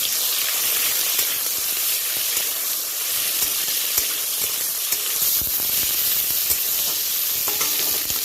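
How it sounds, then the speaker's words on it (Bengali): Chopped tomato and slit green chili sizzle steadily in hot oil in a home kitchen pan, a continuous loud frying hiss with occasional stirring scrapes and spatters. "কেটে রাখা টমেটোটা আমি দিয়ে দেব এই তেলের মধ্যে।"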